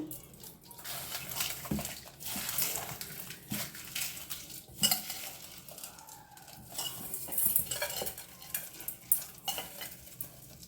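Crushed dried red chillies with cumin being mixed by hand in a pan for Andhra-style pachi pulusu, giving a continuous close rustling and scraping with soft clinks, steady and moderately loud without talk.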